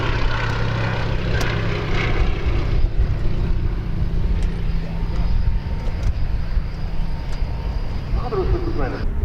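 A Fairey Swordfish biplane flies at the Duxford Battle of Britain airshow, its propeller engine droning steadily and fairly close, with a low rumble throughout and voices talking over it.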